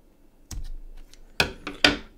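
Scissors trim the wick of a Bulli A2-T repairable atomiser, giving a few close, crisp snips in quick succession, with the last two cuts loudest.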